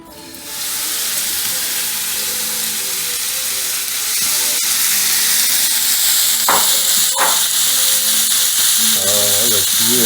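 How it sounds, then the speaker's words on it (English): Seasoned shrimp tossed in lime juice hitting a hot pan, a loud hiss that swells as they go in and keeps sizzling steadily, with a few sharp scrapes and a voice briefly heard near the end. "once that's hot, I'm gonna throw these shrimp in real fast"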